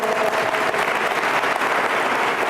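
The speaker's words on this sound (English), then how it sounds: "Give them a big round of applause." An audience at a school district scholarship award ceremony applauds, dense steady clapping that stays close and even throughout.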